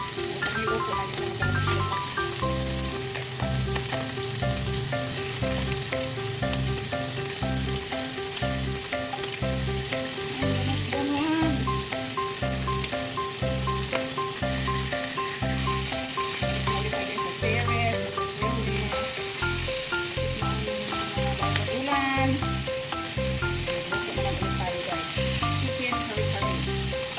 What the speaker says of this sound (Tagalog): Prito natin yung manok.